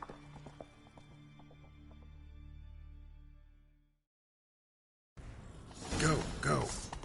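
Horses in a console video game break into motion, with clip-clop hoofbeats and clattering effects that fade out, a brief silence, then game characters talking loudly.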